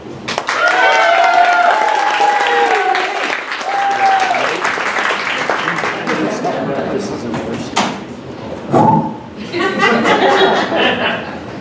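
An audience at a storytelling show breaks into warm applause and some laughter to welcome a storyteller. The clapping starts loud and then thins out, and people talk over it now and then.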